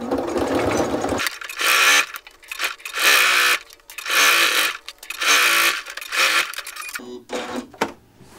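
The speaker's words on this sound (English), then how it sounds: "So let's baste that in place, again within the seam allowance" A domestic sewing machine bastes a backpack front panel within the seam allowance in five or six short, loud bursts of rapid stitching separated by brief pauses, with a faint voice briefly at the start.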